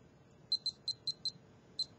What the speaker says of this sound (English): My watch is now at a point where when it beeps,